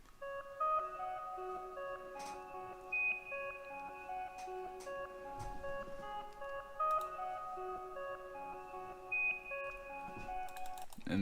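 Omnisphere 2 Organic Rhodes Gentle and Noisy preset plays reversed, sustained electric-piano tones swelling into each note, with soft clicky noise bursts scattered through, steady and moderate with no voices.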